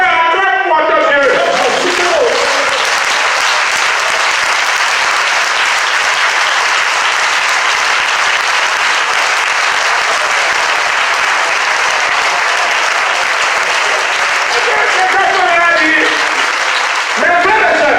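A church congregation at a Sunday sermon applauds to acclaim God, a dense, sustained wave of clapping that fills the room for the whole stretch, with voices rising briefly at the start and end.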